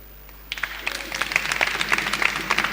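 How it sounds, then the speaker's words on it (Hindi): A church congregation in Goa breaks into clapping after a quiet start, irregular sharp claps building into a steady, lively round that stays loud to the end. "तो कैसे ताली बजाएगा बताओ।"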